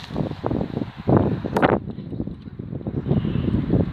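Wind blows outdoors on a walk back past mimosa trees, gusting and buffeting the microphone in uneven swells with a brief higher whoosh midway and no clear talk.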